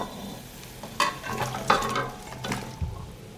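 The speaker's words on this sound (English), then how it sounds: "The marinade has boiled and I put the pepper in the boiled marinade." Peppers cooking in a pot of boiling marinade, bubbling and sizzling with a few stirring clinks of a utensil, close and without talk.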